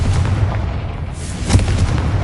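The Confringo blasting spell goes off in Hogwarts Legacy, a deep booming explosion with a rumbling low end and a sharper second burst midway.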